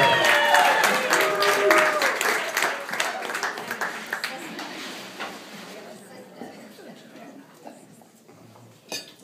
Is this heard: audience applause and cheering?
yes